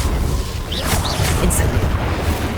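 Confringo fire blast spell cast in Hogwarts Legacy, a steady roar of explosive booms and crackling bursts that stays loud through the whole stretch, with a couple of brighter whooshing flares riding on top.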